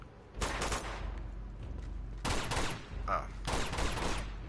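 Bursts of automatic gunfire in the video game Uncharted 2, three loud rapid volleys separated by short gaps, with a brief exclamation from a player between them.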